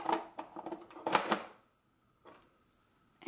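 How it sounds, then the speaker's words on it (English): The plastic lid of a Crock-Pot 20-ounce lunch crock food warmer is screwed on, giving a quick run of close ratcheting clicks, then a pause and a couple of fainter clicks. "screw on the lid"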